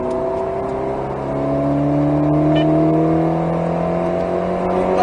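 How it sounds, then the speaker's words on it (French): An Alpine A110S race car accelerates hard around the Nogaro circuit, its engine note rising steadily and loud and close, with the rising whine sustained throughout. "et on accélère."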